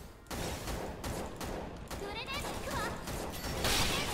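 Rapid bursts of gunfire in the video game SAO: Fatal Bullet crackle repeatedly over a busy, noisy background.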